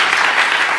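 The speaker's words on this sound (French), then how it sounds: "Applaudissements" Crowd applause during a lighthearted contest show, a brief, thick wash of many hands clapping at once, loud and continuous with no pauses.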